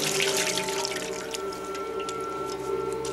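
Water poured from a vessel, a steady splashing stream running continuously and fairly close, heard alone without talk.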